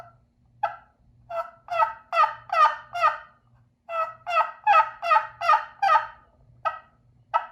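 A turkey call sounds a run of raspy, rhythmic yelps in two bursts, close and loud, imitating a young gobbler's (jake's) coarse, deeper-toned yelp.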